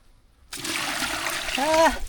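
Dirty water from an animal container is dumped out in one short pouring splash that starts abruptly and runs for about a second and a half, close and fairly loud, with a brief voice-like tone near the end.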